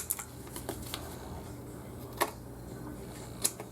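Scissors snip extra pieces off a paper greeting card in a handful of faint, sharp clicks scattered over a quiet background, with no talk.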